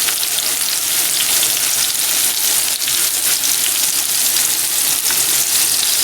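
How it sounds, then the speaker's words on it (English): Vegetables sautéing in a pan with a thin coating of leftover pork fat, a loud, steady, close sizzle with constant crackling and occasional soft stirring knocks. "to saute the vegetables"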